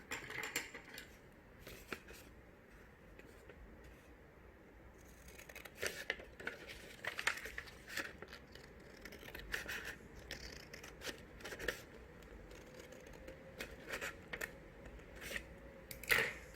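Scissors snip along the crease of folded paper for a mini book, a series of short, quiet crisp cuts with small rustles between them.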